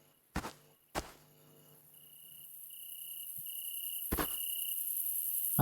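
Crickets chirp in a steady nighttime chorus in the horror video game Backrooms Descent, rising gradually in loudness, broken by a few sharp thuds early on and one later.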